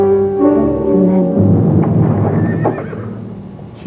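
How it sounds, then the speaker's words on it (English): A horse whinnies loudly and close up in a long descending neigh, followed by hooves clip-clopping, with no voices. "She put Blue Lady, my horse, on the cross tie."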